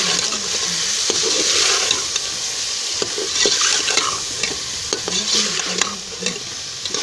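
Chicken fries with spices in a pan for chicken shorba, sizzling steadily up close. Repeated scraping and clinking strokes of a spoon against the pan break through the constant crackle.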